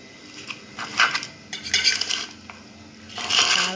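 A spoon scrapes and clatters against a pan while a millet and dried-date laddu mixture is stirred, in uneven bursts of metallic scraping with short pauses between strokes and no voices.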